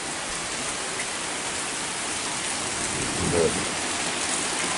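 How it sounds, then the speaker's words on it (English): Heavy rain pours steadily outside an old abandoned house in Kentucky, a dense, even hiss that runs through the whole stretch, with a brief spoken word near the end. "You can tell it's raining pretty good. A lot of water coming down."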